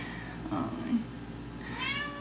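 A cat outside a closed bedroom door cries to be let in, giving a couple of drawn-out meows at moderate distance over a faint background hum.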